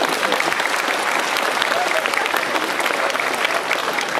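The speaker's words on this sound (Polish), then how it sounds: "Wielkie brawa dla nich." Audience at the opening of a children's karate league in Raszyn applauds, a dense, close, steady round of clapping from a crowd in a hall, lasting the whole stretch.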